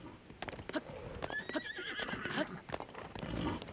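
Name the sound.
horses neighing in a video game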